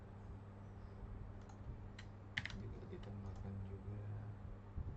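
Soft, scattered keystrokes on a computer keyboard while PHP code is edited, faint and sparse over a low steady hum.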